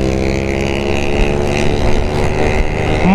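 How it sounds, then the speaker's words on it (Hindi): A Yamaha R15 v3 motorcycle's exhaust drones steadily and loudly at a constant engine pitch while riding, with wind rush mixed in and no break. "मस्त आवाज़ दे रहा है यार, कसम से इसका एग्जॉस्ट।"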